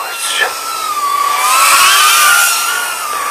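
Eachine Falcon 120 drone motors on a 3S battery spin up into a steady high-pitched whine that rises and falls in pitch, loud and close, with someone talking excitedly over it.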